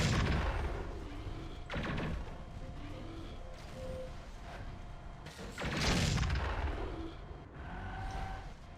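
Blasts and weapon fire rattle through a Mechwarrior 4: Vengeance battle on city streets, with repeated loud bursts, the heaviest around the middle, over a steady mechanical rumble.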